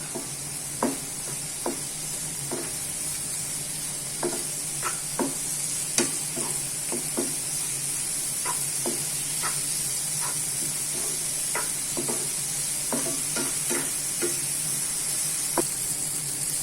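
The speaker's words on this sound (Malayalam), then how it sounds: "സ്പ്രിംഗ് ഓനിയൻ ഇട്ടു, പച്ചമുളക് ഇട്ടു. നന്നായിട്ടൊന്ന് സോട്ട് ചെയ്ത് കൊടുക്കുക." Spring onion and green chilli sautéing in a pan for chilli garlic prawns: a steady close sizzle with irregular scraping strokes of a stirring spoon throughout, no voices.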